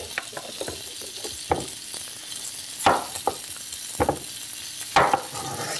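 Seitan browning in a hot pan, a soft continuous sizzle broken by several sharper crackles and scraping stirs, close and fairly quiet with no talk.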